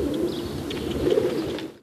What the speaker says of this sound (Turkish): güvenlik görevlileri vilayet meydanında bulunan güvercinleri besleyerek